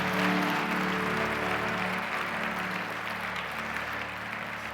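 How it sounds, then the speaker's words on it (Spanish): A church congregation applauds, a soft, continuous wash of distant clapping over a steady hum, fairly quiet and without distinct individual claps. "Dale un aplauso al Señor"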